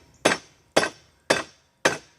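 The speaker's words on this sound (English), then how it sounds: "There's a sledgehammer." Sledgehammer striking powder-coated lead bullets, four sharp separate whacks roughly half a second apart, loud and close, each blow dying away quickly, with no voices.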